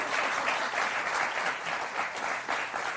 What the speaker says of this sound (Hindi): ताली तो बजा दो, इतनी अच्छी बात बोली है.